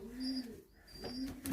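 A young racing pigeon coos softly during basket training, two low cooing phrases close by, with a faint higher whistle in the background and no talking.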